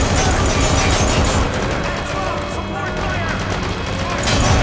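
Shotgun fire in Metal Gear Solid V: The Phantom Pain, a dense run of loud, rapid blasts and crashes layered over game noise, easing briefly mid-clip before heavy firing swells again.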